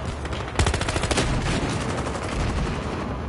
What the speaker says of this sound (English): All they're doing is shooting and exploding.